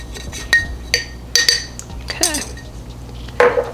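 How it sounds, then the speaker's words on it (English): Packed brown sugar being broken up in a bowl: a utensil clinks and scrapes against the dish in sharp, scattered taps, close and distinct, with no talk. "I'm just breaking up the brown sugar in there a little bit."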